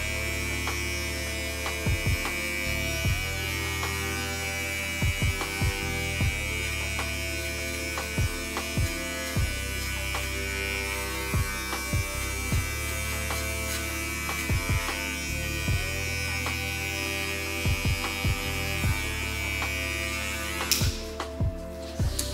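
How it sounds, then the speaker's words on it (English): A Wahl 5 Star Finale electric shaver runs on hair during a flat-top haircut, a steady close-up electric buzz with light ticks and brushing contacts throughout, no talking. "Now using the 5-star finale shaver, I will apply light pressure around the lower areas"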